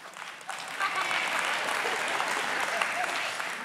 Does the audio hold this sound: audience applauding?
yes